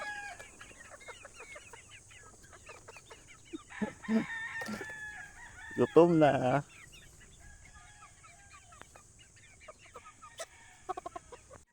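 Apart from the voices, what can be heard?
chickens clucking while following their feeder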